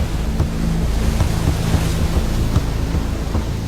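Roaring, rushing water fills the scene steadily where two waterfalls meet on the Kencha river, a dense close wash of turbulent flow with no voices.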